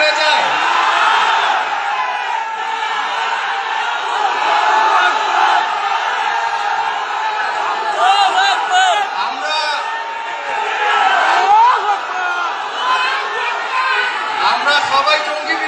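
A large crowd at a political speech event in Bangladesh shouts and cheers in rough unison, the voices swelling and dipping in loose waves of chanting with scattered whoops, dense and continuous throughout.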